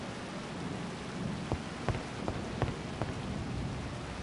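Steady rain with a thunderstorm in an Agatha Christie mystery video game, a constant hiss of falling water broken by a few sharp drips or cracks, no voices.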